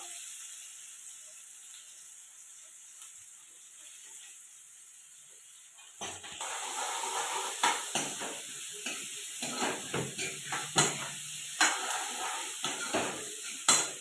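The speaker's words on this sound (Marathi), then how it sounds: "दोन कांदे टाकले ना आपण फोडणीला" A steady low hiss for several seconds, then a louder burst of sizzling as onions hit hot oil, with repeated stirring scrapes and crackles.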